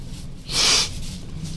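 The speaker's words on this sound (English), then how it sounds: "Pardon me while I blow my nose" A woman blows her nose once, a short, soft, breathy snort lasting under half a second over quiet room tone.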